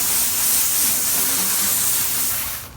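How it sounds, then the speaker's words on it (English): Water hisses steadily from a sprayer onto a car body panel freshly wet-sanded with 600 grit, a loud continuous spray close by that cuts off abruptly at the end. "So I'm gonna have to spray it down."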